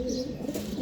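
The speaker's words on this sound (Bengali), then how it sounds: "এই যে এক জোড়া আমাদের খুব দুষ্ট কবুতর" Pet racing pigeons cooing close by, a continuous low throaty burbling that stays steady and fairly loud throughout the short moment.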